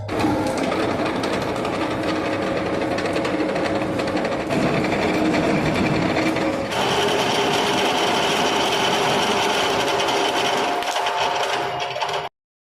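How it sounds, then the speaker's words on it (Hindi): A lathe parts off a rotating workpiece as the tool feeds straight in, giving a loud, steady mechanical whir with sustained tonal hum that runs without a break and shifts in tone partway through, with no talk. "यहाँ पे ये वर्कपीस यहाँ पर रोटेट करता रहेगा और टूल को आपने ऐसे मूव कराते जाओ परपेंडिकुलर डायरेक्शन में"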